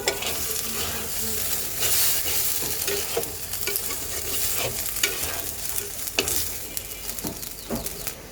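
A spice paste of ginger paste and tomato sizzles in hot oil as it is sautéed for a prawn onion curry, with continuous frying hiss and intermittent spoon scrapes and stirring knocks.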